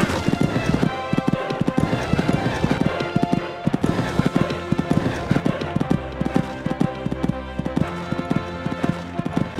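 Horse hooves gallop in a fast, steady clip-clop rhythm over a cross-country course at an equestrian three-day event in the video game Equestriad 2001, loud and continuous with music behind it.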